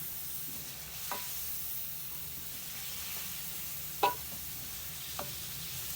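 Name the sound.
frying garlic ginger paste in a pot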